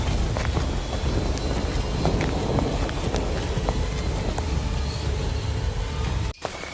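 Heavy rain pouring steadily in a dense forest, a loud continuous roar with low rumbling underneath, ending in a brief sharp crack and a sudden dip near the end.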